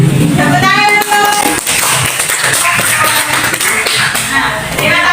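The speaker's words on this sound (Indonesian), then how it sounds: "Tepuk tangan dulu." Classroom applause from students in a teacher-training lesson, loud and busy clapping and tapping throughout, with children's voices mixed in under the noise.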